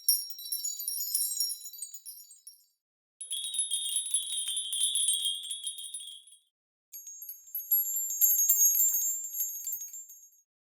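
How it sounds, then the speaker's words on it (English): Small metal bells tied together on a rope are jangled close to a microphone, giving three bright, tinkling bursts of a few seconds each, separated by brief silences. "these come from bells that have been stitched together or kind of like tied together in a rope"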